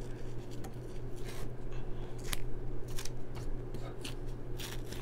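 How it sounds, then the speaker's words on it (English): Scissors trim fabric around a machine-embroidered design with a series of close, crisp snipping cuts over a steady low hum. "trim around the back and trim around the front"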